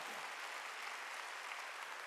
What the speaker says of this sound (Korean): 박수로 하나님께 영광 돌리라